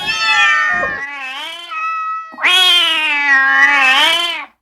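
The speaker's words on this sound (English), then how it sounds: "The sound was so loud, louder than any cat's cry I'd ever heard before." A cat crying with loud, high-pitched, desperate wails, two long sustained yowls close up with a short break between them, no talk over them.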